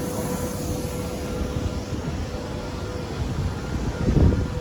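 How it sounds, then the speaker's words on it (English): A Frontier airliner taking off at an airport makes a steady, distant jet roar with wind rumble, swelling slightly toward the end. "there's Frontier taking off this morning"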